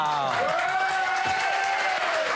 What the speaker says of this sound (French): Et les mecs, ils applaudissent.